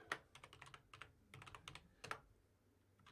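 Keys clatter on a computer keyboard in short irregular bursts with brief pauses, close and fairly quiet, with no talking.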